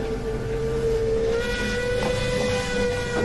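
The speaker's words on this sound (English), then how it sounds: "The engine whistled again," A steam engine whistles in one sustained, steady tone over rumbling and hissing rail noise, moderately loud and with no talking.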